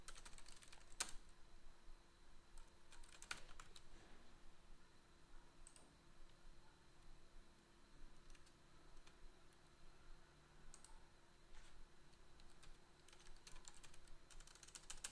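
Computer keyboard typing, a steady run of light clicks and occasional sharper key taps, close and fairly quiet, continuing with no talk throughout.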